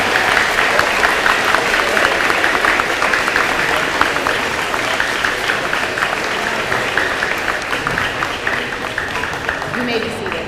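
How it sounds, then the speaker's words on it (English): A school awards audience gives honor roll winners a big round of applause, loud, dense and continuous for several seconds, with voices mixed into the crowd noise before it tapers off. "Trevor Wilson, Kaylee Wiseman, let's give our Honor Roll Award winners a big round of applause."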